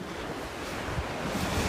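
Sea waves breaking on a snowy beach in Iceland, a loud continuous roar of surf mixed with strong wind buffeting the microphone, with no voices.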